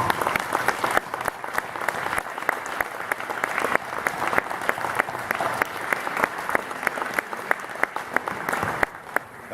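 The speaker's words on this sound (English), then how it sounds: "I would ask those seated to join me in a round of applause for the fine showing today" Audience applause at a graduation ceremony, a steady dense patter of many hands clapping throughout, fairly close and sustained, easing slightly at the very end.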